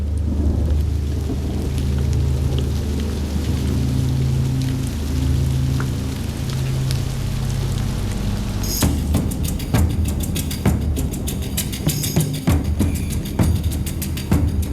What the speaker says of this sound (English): The Hopi prayers for rain are answered.